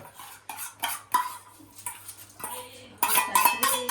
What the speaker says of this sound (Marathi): आता आपलं तडका टाकू याच्यामध्ये